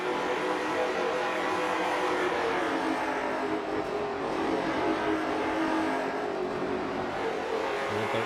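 Several race cars in an ASRL Bronze Performance LMSC race at Five Flags Speedway run hard together, a dense, continuous engine roar holding steady and loud throughout with no voices.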